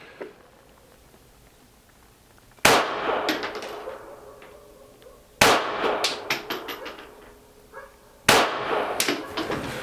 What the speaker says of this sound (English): there's the 5 shots